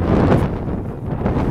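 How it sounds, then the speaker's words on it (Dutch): Strong coastal wind buffeting a microphone on an autumn walk over the Puinduinen dunes in The Hague, a loud rumbling, gusty roar that rises and eases without pause. "Ik vang nu heel veel wind."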